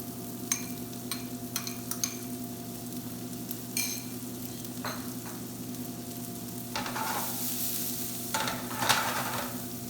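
Onion added to a pan of sizzling garlic gives a steady frying hiss with scattered clicks and taps from a utensil, growing slightly louder and busier toward the end.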